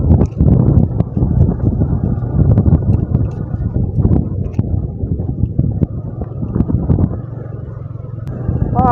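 Strong dry wind near a roadside in Champasak, southern Laos, buffets the microphone with loud, continuous low rumbling and gusty surges, and a vehicle-like drone runs underneath.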